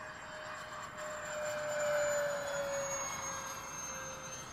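An Xfly J65 twin-EDF radio-controlled model jet passes at a distance with a steady ducted-fan whine that swells as it draws nearer and then fades, heard over broad wind and background hiss.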